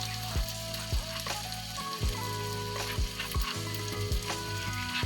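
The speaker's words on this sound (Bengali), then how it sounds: "পেঁয়াজ ভাজা চলছে।" Onions frying in a pot over a village dung-cake fire, a steady sizzle with periodic stirring scrapes roughly every second, close and alone without talk.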